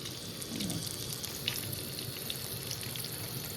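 Curry leaves crackling and sizzling in hot oil for tomato pachadi, a steady fine frying hiss with small pops, close and fairly quiet, no talking.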